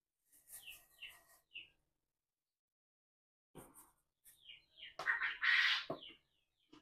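Pet birds chirp and tweet at feeding time in quick, faint clusters separated by silent pauses, ending in a brief louder burst of calls.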